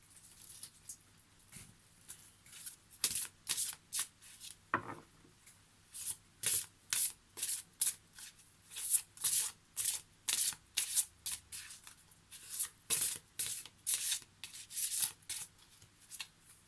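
Tarot cards are shuffled in a quick, rhythmic series of crisp riffling bursts, close and fairly quiet, with no talking.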